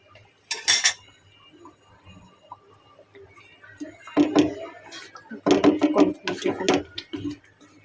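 Spoon clinking and scraping against a cooking pot while fried onion is stirred in, a few separate bursts of metallic clatter with quiet gaps between.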